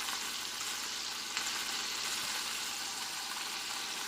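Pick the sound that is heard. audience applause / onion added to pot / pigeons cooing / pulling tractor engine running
onion added to pot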